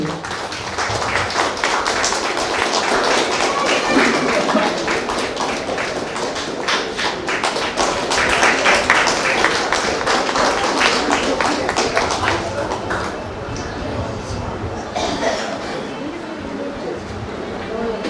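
A church gathering marking a 100th birthday celebration breaks into sustained applause, a thick, continuous clatter of many hands that fills the hall for about twelve seconds before thinning out under a faint background hum.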